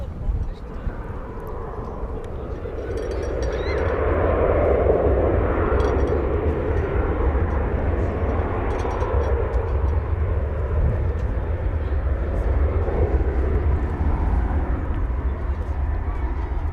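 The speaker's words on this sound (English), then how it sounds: "American Flight 176 from Haneda Airport in Tokyo is just about to touch down" An American Boeing 787-9 Dreamliner arriving from Tokyo Haneda touches down at DFW Airport, a broad jet engine roar swelling and holding steady as it lands at a distance, with people talking nearby.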